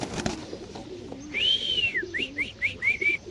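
Pigeon calls at a busy pigeon market, where white Lakkha pigeons are sold: a series of clear whistling, cooing notes rising out of low crowd murmur, coming close together in short bursts.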